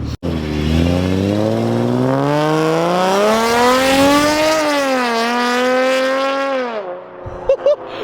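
A loud Infiniti G35 with Tomei longtube headers roars past up close, its pitch climbing as it accelerates and then falling away, with a few sharp pops near the end.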